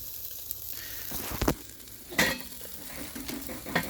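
Mackerel, including Norwegian mackerel, sizzles steadily over a charcoal grill outdoors at night, with occasional louder crackles and scrapes on the grate.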